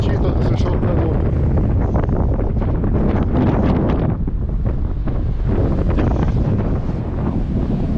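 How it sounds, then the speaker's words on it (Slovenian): Strong wind and choppy waves at sea near a lagoon, a loud buffeting roar of wind on the microphone over churning water, with someone talking through it. "Kot vidite pa kar fajn še piha in tudi valovi so"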